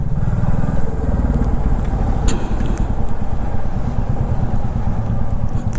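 A Royal Enfield motorcycle engine thumps loud and close in a parking lot, a continuous throbbing rumble with no speech over it.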